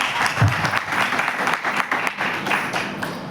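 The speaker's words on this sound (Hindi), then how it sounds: "तो जबरदस्त तालियां डीटीएम के नाम की होनी चाहिए।" Audience clapping at a Hindi-language business gathering, a steady mid-level wash of applause that carries on for the whole few seconds, with no voices over it.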